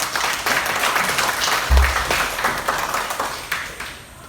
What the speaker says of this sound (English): Hand of applause for TBC.